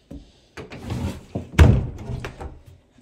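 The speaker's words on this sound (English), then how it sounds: "I'll just shut that door again." A wooden door in an abandoned farmhouse is pushed shut, with creaking movement and scraping before a solid thunk at the close, then a few softer knocks, nearby and fairly loud.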